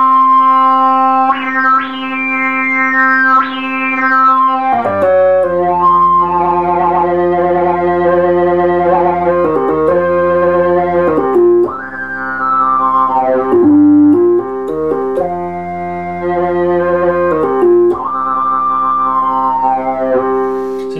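A restored Moog synthesizer played in higher octaves with a slow filter attack and envelope, its rich sustained tones swelling into each note across a slow melodic line, loud and close with no talking.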